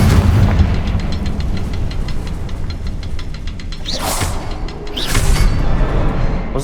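Confringo blasting spell in the Hogwarts Legacy video game, dense rumbling booms and crackling bursts with two sharp whooshing flares near the end, loud and close with no talk.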